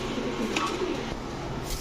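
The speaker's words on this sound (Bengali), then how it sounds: "এখন দেখাবো এক জোড়া সিলভার পাঙ্কি ফেটের কবুতর" A pair of silver punky pigeons coo softly in a loft, low murmuring calls continuing steadily through a busy background hum with a few faint chirps.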